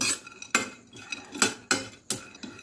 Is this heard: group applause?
no